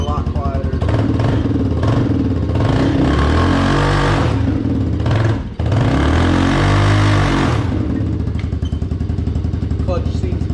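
The engine of a Can-Am DS90X ATV runs loud and close after a starter replacement, a continuous buzzing drone that rises and falls with the throttle and briefly dips once.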